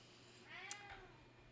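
A cat named Pete lets out a single loud, strained meow, a drawn-out cry rising and falling over about a second, close by against a quiet room.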